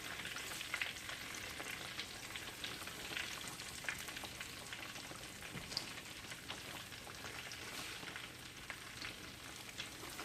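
Apple pies fry in hot oil with a steady, faint, dense crackling sizzle that runs on without a break and has no voices over it.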